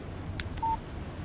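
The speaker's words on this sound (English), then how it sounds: "Text message from Barry" In the video game Alan Wake, a phone gives a short, clean electronic beep for an incoming text message. Two faint clicks come just before it, against a quiet background.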